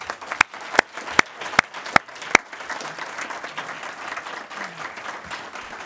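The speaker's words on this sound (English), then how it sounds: "let's give him a big round of applause." Audience applause after a guest speaker is introduced at a university talk on South African politics, opening with several sharp distinct claps that blend into a steady, moderate crowd clapping which gradually thins out.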